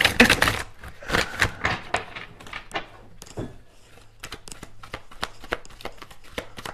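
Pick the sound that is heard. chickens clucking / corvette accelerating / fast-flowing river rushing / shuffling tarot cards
shuffling tarot cards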